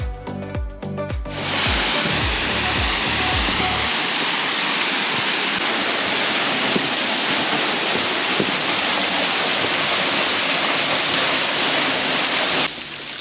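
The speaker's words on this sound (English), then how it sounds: "The walk up was filled with waterfalls" A steady, roaring rush of falling water from a waterfall in the Blue Mountains, loud and continuous, after a few seconds of rhythmic thumping and rustling at the start.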